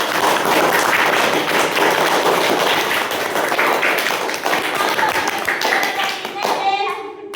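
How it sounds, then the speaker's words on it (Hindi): Loud, dense clapping from an audience at a Constitution Day talk fills the clip continuously, with voices mixed in and the applause thinning toward the end. "उनके लिए भी एक बार जोरदार ताली।"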